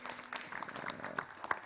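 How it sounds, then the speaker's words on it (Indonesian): Audience at a lively Indonesian religious talk clapping in appreciation, a dense spatter of hand claps spread across the room, steady and moderately loud with a few sharper nearby claps standing out. "Tepuk tangan untuk JTV deh, luar biasa."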